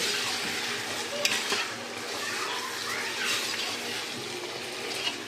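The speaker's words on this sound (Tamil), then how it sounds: "எல்லாமே சேர்ந்து நல்லா வதங்கட்டும்" Tomatoes sauté in a pan with steady sizzling and frying and occasional stirring scrapes, a continuous hiss throughout without clear speech.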